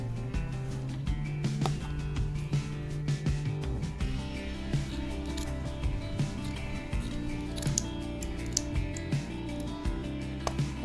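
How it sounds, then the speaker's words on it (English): Scissors cut fabric for handmade earrings, giving a steady run of quick, crisp snipping clicks close by, with a faint background tone underneath. "I'm taking this fabric and I'll first measure how much is required here, and we'll cut that much accordingly"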